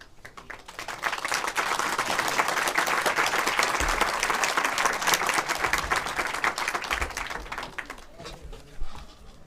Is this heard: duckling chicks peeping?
no